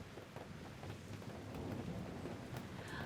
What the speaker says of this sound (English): The rain is falling on the cabin.